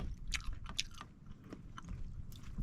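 Someone chews kinilaw, raw fish dish, close to the mic with wet, crunchy bites and mastication repeated over a few seconds, quiet with no speech.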